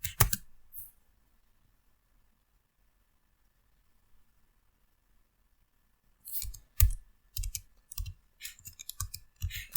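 Keys clicking on a computer keyboard while code is typed, in short uneven bursts near the end after a long quiet stretch, close and fairly crisp.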